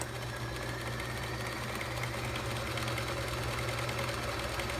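Well-used sewing machine stitching quilt-as-you-go quilt blocks, a steady close mechanical whir and rapid needle chatter running unbroken and alone.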